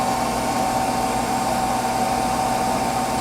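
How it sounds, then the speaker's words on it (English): An electric motor spinning an alternator, a steady loud whirring hum with a high whine that holds nearly constant throughout, alone without talk. "You can hear the speed of the motor coming up"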